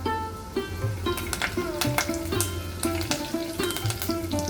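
A tempering of mustard seeds, cumin, sliced garlic, hing and curry leaves crackles and sizzles in hot oil in a kadhai, with bright popping and spitting over a steady hiss and a low background hum.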